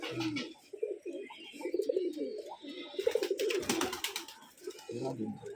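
Rajshahi gerebaj pigeons, including a white pair, coo steadily in a loft, their soft rolling calls close by and repeated throughout while people talk over them.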